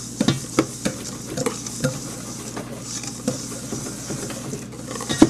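Bath bomb mixture tinted with blue food coloring being stirred in a bowl, a close, steady scraping and tapping with small knocks scattered throughout, no voices.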